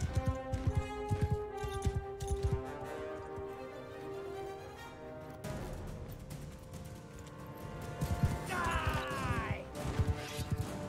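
Steady horse hoofbeats clop in a quick galloping rhythm in the video game Mount and Blade 2: Bannerlord, over continuous background music, with a brief rush of noise midway.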